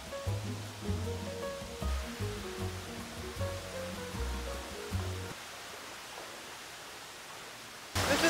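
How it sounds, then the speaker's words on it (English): Water bubbles up steadily in a hot spring bath at Jiaoxi in Yilan, Taiwan, a soft continuous hiss. Tonal music plays over the first half, then the bubbling carries on alone. "I think bubbles come up from somewhere."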